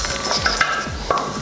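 A spoon stirs an energy bar mixture in a pan on the stove, giving close, repeated scraping and clacking strokes over a light sizzle, with no talking.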